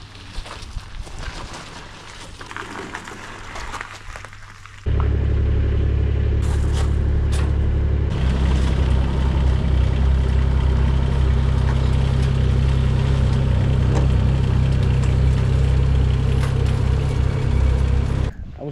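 Excavator engine rumbles at idle, then revs up loud and steady as the machine drives onto a trailer, a deep continuous drone close by.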